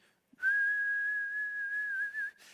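A steady, high-pitched whistle from a pressure cooker valve, sustained for about two seconds with slight wavering before cutting off.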